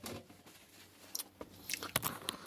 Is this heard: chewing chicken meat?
yes